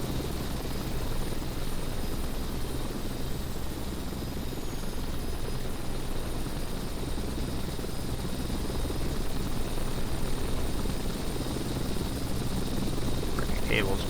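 A helicopter hovers in Flight Simulator X with a constant, dense rotor and engine drone, steady and loud for the whole stretch, with a faint voice talking over it.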